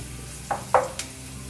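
Paneer frying in a hot pan for a restaurant-style mixed vegetable dish: a steady low sizzle broken by a few quick scrapes and stirs of a utensil against the pan, close by, with no voices.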